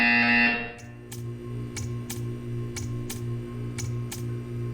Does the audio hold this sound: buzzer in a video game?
yes